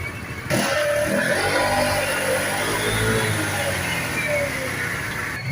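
A 125cc motorcycle engine revs up from a quiet start into a sustained, rising roar that holds near and loud for several seconds, with a voice speaking over it.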